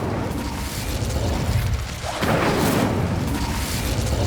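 An Incendio fire spell in Hogwarts Legacy: a continuous rumbling roar of flame and combat noise, with a fresh surge of fiery whoosh midway that stays loud and close to the end.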